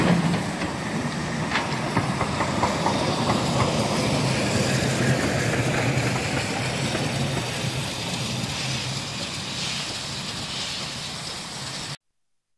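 Steam locomotive VGJ 24 runs along a Swedish heritage railway, a continuous rumbling roll with faint rhythmic clatter of wheels and a hiss, steady and fairly loud throughout before cutting off abruptly.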